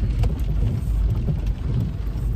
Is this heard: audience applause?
no